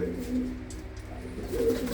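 Cooing from large white-eyed pigeons kept in a village loft near Amritsar, a soft low rumble that swells near the start and end of the short stretch, with a faint voice in the background.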